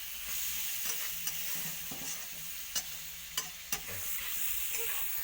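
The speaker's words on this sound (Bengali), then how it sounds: "পোঁটাটা আমি এইভাবে ভালো করে ভাজা করবো, নাহলে একটানি গন্ধ ছাড়বে।" Fish entrails frying in oil in a pan, a close, steady sizzle with a few sharp clinks of a spatula stirring against the metal, no talking.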